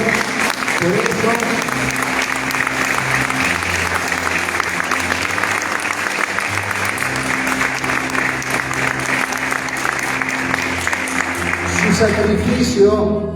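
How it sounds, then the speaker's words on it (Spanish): A church congregation at an Easter Sunday communion service applauds at length, a loud, sustained wash of clapping with sustained tones and a voice running underneath. "¿Cuánto le dan un aplauso al Señor por eso?"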